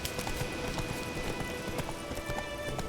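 Hooves of a horse running in the video game Witcher 3, a steady quick clip-clop under a continuous noisy in-game ambience.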